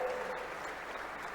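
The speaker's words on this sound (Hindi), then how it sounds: "ताली बजाओ तो जरा जोरदार तरीके से बजाओ" An audience applauds at a regional industry conclave in Shahdol, a brief, steady patter of clapping that sounds somewhat distant and fairly faint.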